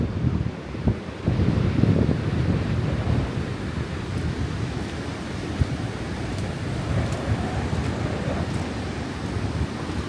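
Strong wind buffets the microphone over a steady wash of surf on a Trinidad beach covered in Sargassum seaweed, a loud, constant roar with no talking.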